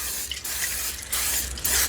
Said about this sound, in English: I'm going to go ahead and spray my pan with nonstick spray